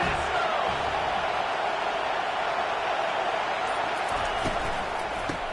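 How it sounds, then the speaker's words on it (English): A large American college football stadium crowd at a Miami versus USC game roars loudly and continuously, a dense sustained wall of cheering and shouting from thousands of fans with no pauses. "This crowd bringing an ear-splitting welcome to their visitors."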